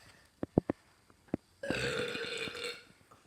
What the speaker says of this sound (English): Or he's ready to burp.